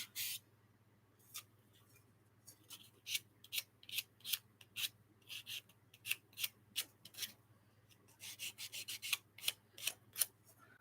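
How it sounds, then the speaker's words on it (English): Repeated short rasping strokes, quiet and close, sped up into quicker runs toward the end, like sandpaper worked back and forth over wood on a hammered dulcimer. "I'm just going to do some sanding of this thing"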